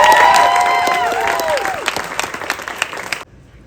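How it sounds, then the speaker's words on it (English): An audience applauds young theater performers with loud, dense clapping and some cheering, the last whistle-like voices sliding down early on, before the noise fades and cuts to near silence. "So let's give them a big round of applause."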